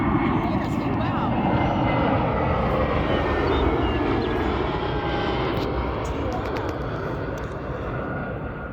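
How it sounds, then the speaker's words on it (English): An Airbus A320 jet at an airport in the evening, its engines producing a loud, steady roar that holds throughout and eases slightly toward the end, heard up close by a planespotter. "What plane is that? A320."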